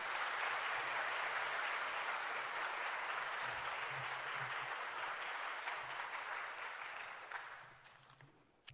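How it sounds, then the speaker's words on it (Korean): A church congregation claps to welcome a pastor before a Sunday sermon, a broad, steady roomful of applause that holds evenly for several seconds and then tapers off at the end. "우리 목사님 고맙습니다, 환영합니다 하는 뜻에서 박수로 한번 모시도록 하죠."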